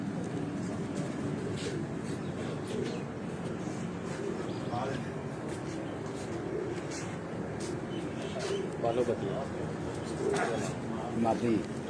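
Pigeons coo softly on a rooftop in a series of low, rounded calls under faint background noise and distant traffic, while someone talks quietly through much of it.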